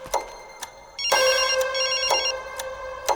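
An incoming call sets a telephone ringing: a bright electronic ring repeats in short pulses, with a quieter tone before a louder, sustained sequence, fairly close and alone.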